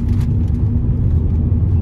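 A 2023 Hyundai i20 Sportz engine hums as a steady, close low rumble, with no clear rise or fall in pitch and no voices.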